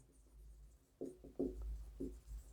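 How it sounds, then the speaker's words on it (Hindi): Pen strokes on paper while writing by hand, a few short scratchy marks in quick succession over a quiet room, faint and close, with no talk. "मैं नीचे लिख देता हूं"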